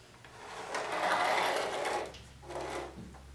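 A pink Atlas sewing machine with a low shank foot, converted to hand crank operation, runs in a steady mechanical whir that swells, stops briefly, then restarts for a short second burst.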